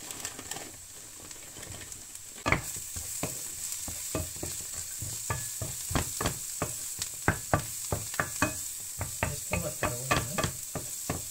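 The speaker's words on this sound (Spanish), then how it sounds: "Mezclamos todo bien e integramos el arroz. Y dejamos que se sofría." Onion, raisins and rice sizzling in hot oil with curry, turmeric and cayenne, stirred repeatedly in a pan; sharp scraping stirs recur steadily over a constant frying hiss, with faint bird cooing in the background.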